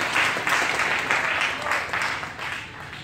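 A church congregation bursts into sustained hand clapping in praise, a dense, even wash of applause filling the room with mixed voices faintly beneath it.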